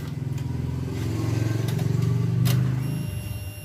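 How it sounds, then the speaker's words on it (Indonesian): A Honda Scoopy FI scooter that will not start, with its fuel pump running and the ignition on, gives a close, steady buzzing hum with a fast rapid pulse, rising slightly then settling for several seconds with no voices. "Fuel pump terdengar bunyi nging."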